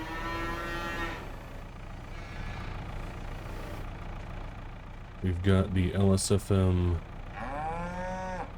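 Cows in a cow pen on a Farming Simulator farm let out a few loud, drawn-out moos in a cluster near the end, over a constant low background hum, while someone talks casually through most of it.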